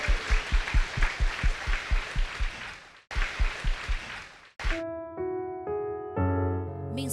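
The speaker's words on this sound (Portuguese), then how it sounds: "Vamos aplaudir então a palavra do nosso Deus." A church congregation claps in rhythmic unison, about two beats a second, stopping and resuming before a brief burst and then sustained musical tones.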